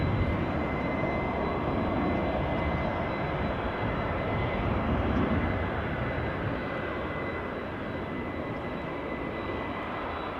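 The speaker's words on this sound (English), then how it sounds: "some louder engine noises. We've got two A330s coming our way" Two Airbus A330 jet engines roar at Amsterdam Schiphol Airport as aircraft take off to the south in a light crosswind. The engine noise is a loud, steady, broadband rumble that fills about ten seconds and eases slightly toward the end, with no voices.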